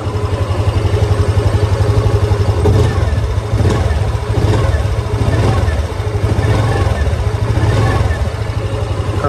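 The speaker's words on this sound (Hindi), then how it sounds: "इसका एग्जॉस्ट नोट सुन लीजिए।" The exhaust of a Hero Destini 125 Xtec scooter close by, its small engine idling with a steady throb and blipped into several short revs that rise and fall.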